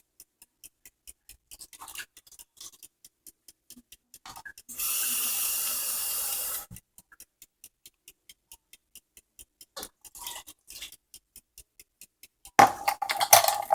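Tap water runs into a measuring cup in a home kitchen as a bright, steady splashing stream lasting about two seconds, framed by faint regular ticking and small handling clatter, with another short burst of running water at the end.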